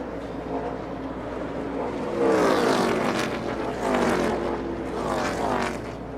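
NASCAR trucks roar past on the final lap at Pocono in a continuous race din, with engine pitches rising and falling as the pack sweeps by at a distance.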